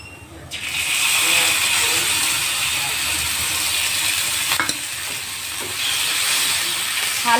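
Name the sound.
spice paste frying in hot mustard oil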